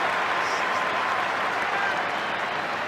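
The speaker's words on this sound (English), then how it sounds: "And the crowd appreciating his innings" Steady, dense applause from a big stadium crowd at an Australia v South Africa T20 cricket match, greeting JP Duminy's fifty, continuous and loud throughout.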